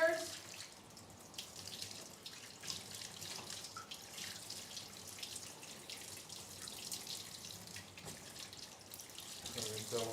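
Steady running water from a tap or sprayer rinses a dog during grooming, a continuous close splashing flow with faint dripping throughout.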